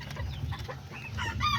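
White rooster and chickens cluck and call in short bursts close by, with a brief crow-like cry near the end over low background noise.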